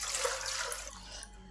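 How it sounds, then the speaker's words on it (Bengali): Water splashing and sloshing as chana dal lentils are rubbed and washed by hand, a steady close wet swishing that eases off slightly toward the end, with no talking. "ডালটাকে ভালো করে চটকে চটকে ধুতে হবে।"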